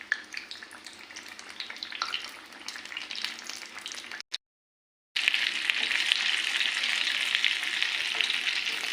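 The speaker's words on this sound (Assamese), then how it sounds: "এবাৰ দুইফালে ৰঙচুৱাকৈ ভাজিব।" Bread pakora deep-frying in hot oil, a steady crackling sizzle that cuts out briefly near the middle, then returns louder and denser, close by with no talk.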